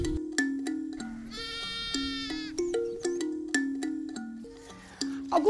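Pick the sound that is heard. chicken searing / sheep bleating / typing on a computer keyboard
sheep bleating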